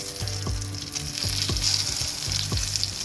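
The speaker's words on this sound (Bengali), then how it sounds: "তো আমার ডিমটা প্রায় ভাজা কমপ্লিট।" An egg frying in a pan sizzles and spits up close, a dense continuous crackle with a few sharper pops at regular intervals, no talking.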